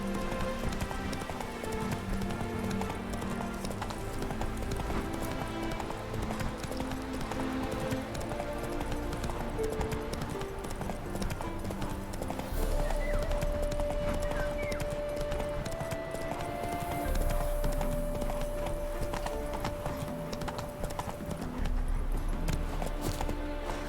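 Hoofbeats of Roach, a horse in The Witcher 3 game, clip-clopping at a steady rhythmic pace over dense game music throughout, with a brief whinny-like tone partway through.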